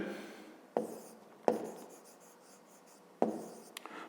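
Pen on paper as a math exercise solution is written down, a few sharp taps and scratchy strokes spaced apart, close and fairly quiet with no talking.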